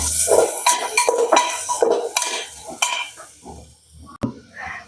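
Turmeric being stirred into masala in a pan for Marathi-style mutton curry, with repeated close scraping strokes of a spoon against the metal over a soft sizzle, busy at first and easing off near the end.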